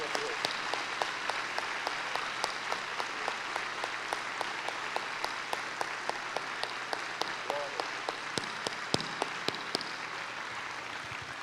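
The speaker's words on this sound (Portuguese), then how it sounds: "Vamos aplaudir o nosso Deus por tudo isso?" A church congregation applauding together, steady rhythmic clapping that keeps an even beat throughout, moderately loud and sustained with a few sharper claps standing out near the end.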